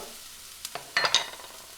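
Minestrone vegetables browning in a pot are stirred, giving a few soft scraping strokes over a light sizzle, close and fairly quiet, with no talking.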